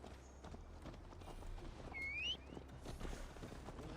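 Horse hooves clip-clop at a steady riding pace in Assassin's Creed Valhalla, a quiet rhythmic patter beneath game ambience with a brief whistling swoop partway through.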